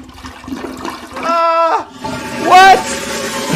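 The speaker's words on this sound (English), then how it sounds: "Flush that." A toilet flushes loudly, a rushing gurgle of water that swells and drains over a few seconds. Talk and a tonal voice-like sound are mixed in, and the flush may be a pasted-in effect.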